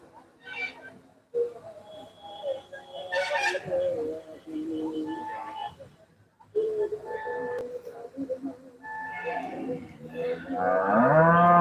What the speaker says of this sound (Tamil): எவ்வளவு மாடு கிடக்கு பாருங்க